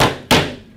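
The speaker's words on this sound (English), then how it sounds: "If you ever want to hit a nail into a piece of wood with a lens, choose the Nikon" A camera lens used as a hammer strikes a nail into a piece of wood: two sharp knocks, one trailing off at the start and a second hard, close hit followed by a short decaying ring, no talking.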